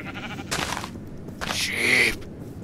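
Two separate bleats from sheep in the Tekkit Lite Minecraft modpack game, the second longer and louder, heard close against a faint steady game background.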